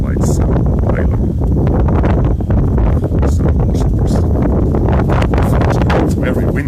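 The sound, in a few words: wind on a roof terrace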